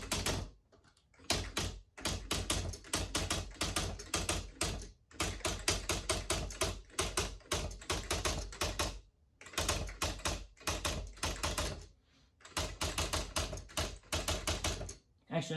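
Rapid bursts of keystrokes clatter from a Smith Corona DeVille 80 electronic typewriter, close and loud, arriving in quick runs broken by short pauses across the whole stretch.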